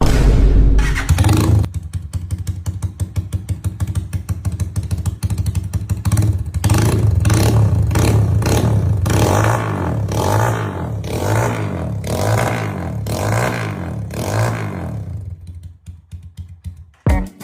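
A Rusi Macho motorcycle fitted with a new aftermarket exhaust pipe revs loudly and close up in a steady series of rhythmic throttle blips over a rough idle, cutting off abruptly at the end.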